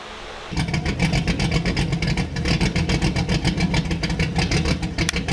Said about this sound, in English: Big cams don't like to idle for long.